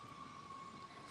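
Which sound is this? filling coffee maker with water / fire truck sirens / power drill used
fire truck sirens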